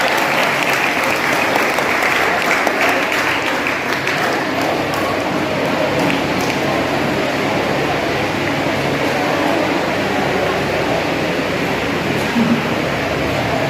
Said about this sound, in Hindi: जोरदार तालियों से स्वागत किया जाए तीनों पार्टिसिपेंट्स का।